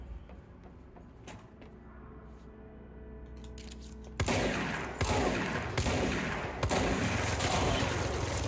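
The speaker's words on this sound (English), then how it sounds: "Guy with a minigun." Video game minigun fire erupts in loud sustained bursts after a quieter stretch of sparse shots and background game sounds, with several rapid volleys in close succession.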